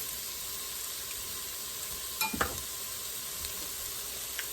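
Chicken cacciatore ingredients sautéing in an Instant Pot, a steady soft sizzle with a couple of brief clinks and scrapes of stirring partway through, no voices.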